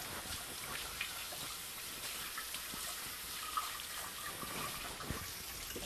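Running tap water splashes steadily as hands are rinsed in a home kitchen during cooking, a continuous close hiss of flowing water with small irregular spatters throughout.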